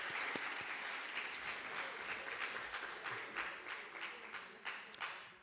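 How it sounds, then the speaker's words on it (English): An audience claps at a school band awards event, a soft, fairly distant patter of many hands with individual claps popping out, holding steady before easing slightly toward the end. "Let's give her a round of applause."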